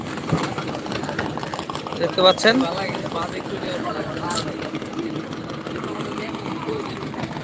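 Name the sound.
trawler boat engine running on river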